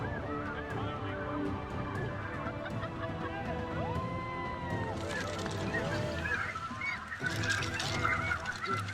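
Geese honk repeatedly as they drop toward decoys during a waterfowl hunt, a chorus of overlapping calls at middle distance with hunters talking at times.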